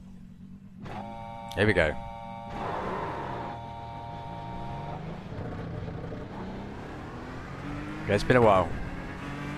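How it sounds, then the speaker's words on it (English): A Ford GTE race car engine in iRacing at Le Mans idles and revs in short bursts, with two sharp throttle blips standing out while someone talks over the steady engine tone. "Again, back in the trusty GT, Ford GTE."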